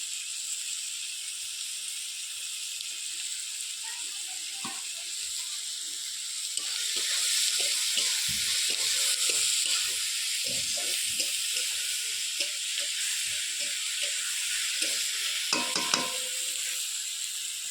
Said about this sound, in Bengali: দেখো দিয়ে দিচ্ছি রসুন বাটা